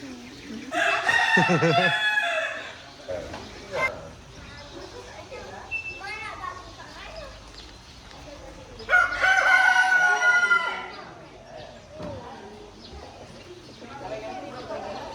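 Rooster crowing loudly twice at a Cameron Highlands farm, each crow a long harsh call, with hens clucking and people talking in the background between crows.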